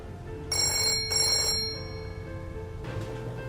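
Telephone ringing: two loud, bright electric bell rings in quick succession, then a fainter third ring, over a low hum in a quiet interior.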